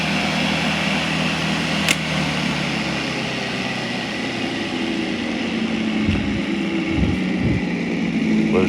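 A homemade 40-volt battery lawn mower, a Craftsman converted to Milwaukee power, runs with a steady electric whir and hum. It stays nearby and constant throughout, with no speech.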